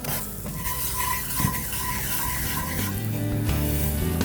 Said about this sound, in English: start stirring our roux